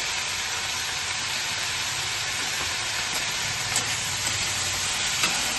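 Turmeric, chilli, coriander and cumin powders stirred in a hot pan: a constant broad sizzling hiss with faint, occasional scrapes of the spoon, steady and close, without speech.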